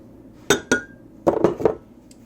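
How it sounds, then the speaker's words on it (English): An egg is cracked into a separate glass bowl for homemade mayonnaise: two sharp clinks of shell against glass, then a cluster of three or four quicker taps and clinks, close and clear. "I always crack my eggs in a separate vessel than the dish I'm cooking in. So, put our egg in."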